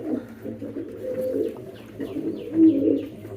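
A pigeon coos softly and close by in a loft where a hen sits on eggs, giving several low, rolling coos in a short run with no voices.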